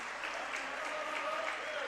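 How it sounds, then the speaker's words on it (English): Crowd at a Wawasee boys high school basketball holiday tournament game cheers and applauds steadily, a dense continuous wash of clapping and voices throughout. "crowd seems to be happy about that."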